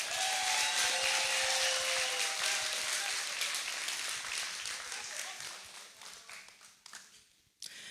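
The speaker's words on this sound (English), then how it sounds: "Please give him a big round of applause." Dense applause from a live audience at a televised singing competition semi-final fills the hall as a singer leaves the stage, loud at first and slowly thinning out, with a faint voice near the end.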